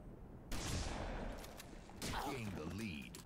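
Shotgun fire and melee strikes in the video game Halo 3 arrive as two heavy, booming bursts about a second and a half apart, with a quiet voice underneath.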